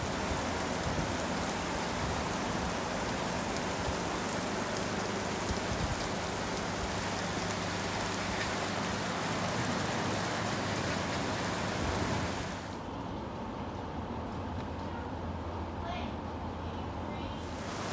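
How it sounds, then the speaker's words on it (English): Steady, dense rainfall hisses continuously, then softens to a duller patter near the end. "And now, the rain."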